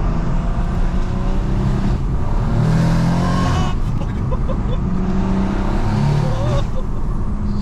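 Inside a 550bhp BMW M140i under hard acceleration, the engine drones loud and steady with a rising whoosh of turbo spool over it, and a voice speaks briefly.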